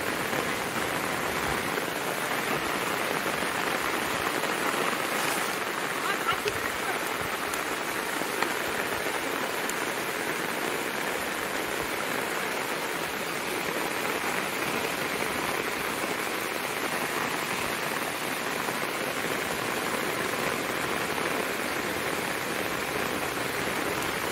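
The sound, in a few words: heavy monsoon rain on Konkan paddy field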